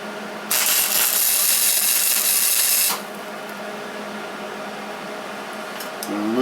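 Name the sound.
tack welding a car control arm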